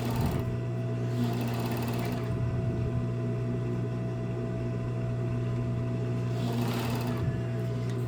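A sewing machine stitches elastic onto baby bodysuit fabric, its steady close motor hum running throughout, with brief louder bursts near the start and end, and no talking.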